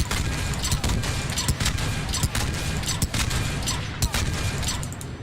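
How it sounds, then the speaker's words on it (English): An eight-shot rifle test-fired in Mass Effect 3, sharp shots cracking out at uneven intervals over a dense steady background of game noise, with a voice talking through it. "I want to check out this weapon first. I want to see how it feels when we fire it"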